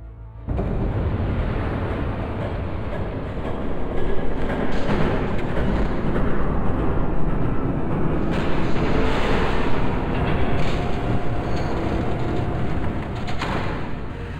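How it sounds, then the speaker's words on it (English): An approaching train in Batman: The Telltale Series game, heard as a broad, steady rumbling roar that swells after a brief quiet start and holds loud throughout, with no speech. "There's a train coming."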